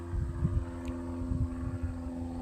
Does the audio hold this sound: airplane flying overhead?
yes